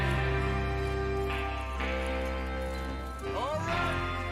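Horses in the western game Red Dead Redemption 2, heard as a soft neigh and light hoof movement under a steady droning music bed, with a brief rising whinny near the end and people talking.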